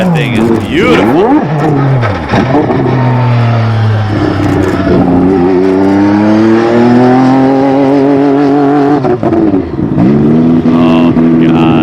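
Loud, close running of a McLaren Honda MP4/4 Formula 1 engine, its layered harmonic drone blipping up and down through repeated revs at idle and warm-up, with a voice talking under it.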